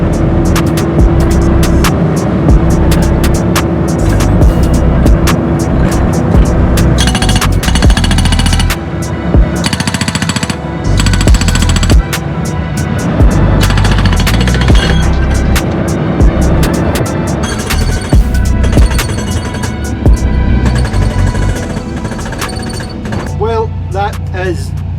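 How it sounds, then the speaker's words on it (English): Hydraulic breaker on a Doosan DX140 LCR excavator with a suspected gas issue and reported poor performance, hammering in loud, rapid, sustained bursts outdoors over heavy engine rumble, with brief pauses between runs. "Breaker's piped up, we've got it on a Doosan DX140 LCR."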